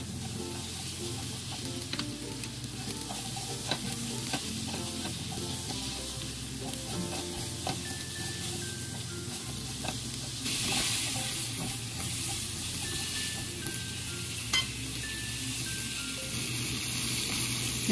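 Asparagus sautés in a pan with garlic, pepper and salt, a continuous close sizzle with intermittent stirring clicks and scrapes, steady throughout and free of speech.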